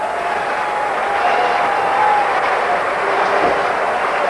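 A cricket crowd at Kensington Oval applauds Gordon Greenidge's half century against India in 1989, a broad, steady wash of clapping and crowd noise heard from a distance.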